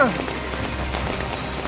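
Heavy rain in Mumbai hisses in a dense, continuous wash of drops on surfaces, close and steady throughout, with voices faintly present beneath.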